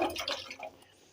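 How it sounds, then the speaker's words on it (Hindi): Sliced potatoes and water are poured into a wok, making a brief, soft splash and trickle that fades within about a second, with no talking. "अब हमने इन आलूओं को पानी समेत जो है वो इस कढ़ाई के अंदर ऐड कर देना है।"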